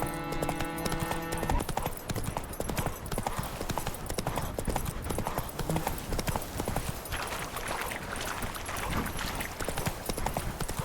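Horse hooves clip-clop steadily and close while riding through The Witcher 3, a continuous galloping rhythm over game music and ambience, with a voice talking intermittently on top.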